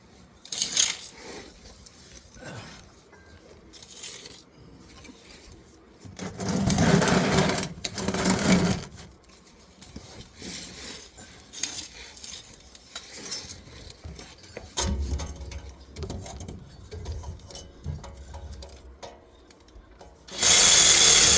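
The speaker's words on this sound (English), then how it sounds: "Gotta cut those transmission lines." Tools cutting the transmission lines on a 1970 Plymouth Satellite during engine and transmission removal, with scattered clicks and scrapes, a few louder grinding bursts of snipping and metal work, and no talk.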